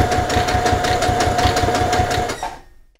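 A sewing machine stitches a straight seam in regular cotton fabric, a fast steady mechanical chatter for about two and a half seconds that stops abruptly into near silence.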